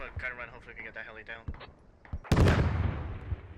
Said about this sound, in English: Mortars coming in on that main building.